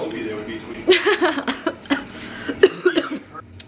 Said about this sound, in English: starting to get a cough, which is really not good